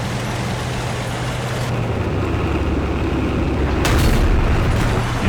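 A tank cannon shot in World of Tanks lands as a loud boom rising out of a steady rumble of engine and battle noise, near and heavy, with no talk.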